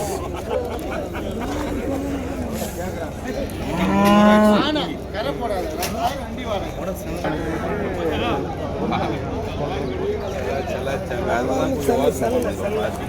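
Cattle at the Vaniyambadi cattle market, mostly hybrid cows and calves, moo loudly once near the start amid a steady murmur of crowd chatter and other animal calls from the market around them.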